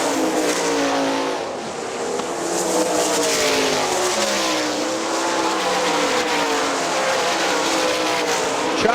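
Sprint cars racing at Hartford Speedway Park in a Great Lakes Outlaw Sprint Series race, a loud, continuous roar of several engines revving and droning as the pack circles the track.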